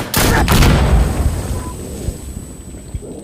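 An RPG rocket explodes in the video game Insurgency Sandstorm, giving a loud, close blast at the start that trails off into a long rumbling decay with scattered gunshots.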